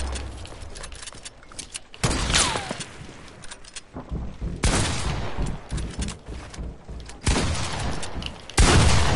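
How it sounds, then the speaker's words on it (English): Sniper rifle shots in a video game, a series of loud, sharp cracks with booming tails, spaced a few seconds apart over continuous game noise. "I'm hitting these snipe shots"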